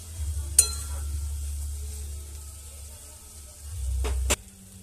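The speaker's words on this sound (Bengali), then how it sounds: "এবার একটু নাড়াচাড়া করে নিচ্ছি।" A spoon stirs a vegetarian rice and chickpea curry in a pan, giving two or three short scraping clinks over a low, quiet simmer that swells briefly near the end.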